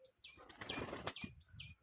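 Pigeons taking off and flapping their wings in flight, a few quick bursts of loud whirring wingbeats close by, with faint chirps around them.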